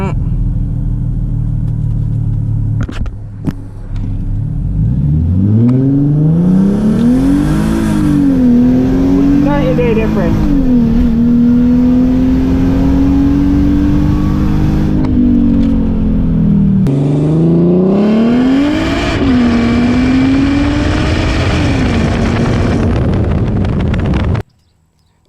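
A Mercedes SLK32 AMG revs hard for a short burnout, its engine note rising, dipping and climbing again in long loud pulls. Wind buffets the microphone, and the clip ends abruptly.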